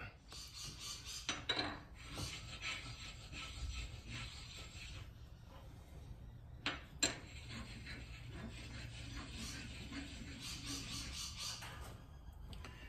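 Engine connecting rod cap from a Holden grey motor rubbed back and forth on a flat surface, a faint, repeated rasping scrape in slow strokes with occasional sharp metallic clinks.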